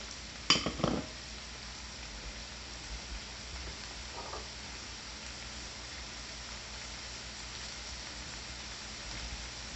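Onions are stirred into hamburger meat frying in a pan, starting with a few sharp scrapes and clanks of the utensil, then settling into a steady, soft sizzle that continues alone.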